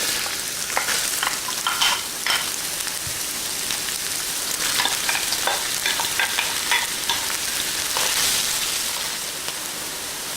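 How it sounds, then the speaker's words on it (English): Carrot and onion fry in hot oil for fried rice, a loud, close, continuous sizzle broken by the scrape and clatter of stirring throughout, with no voices. "We are going to cook the carrot and onion for 2 minutes"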